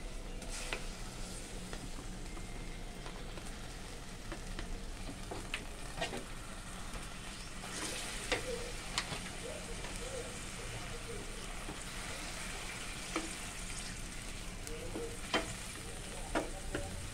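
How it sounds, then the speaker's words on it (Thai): Pork sizzles in vegetable oil in a pan while cooking Lao-style larb, a steady loud frying hiss with scattered pops and stirring clicks throughout. "ใส่น้ำมันพืชลงไปนะ แล้วเราก็เอาหมูใส่ลงไป"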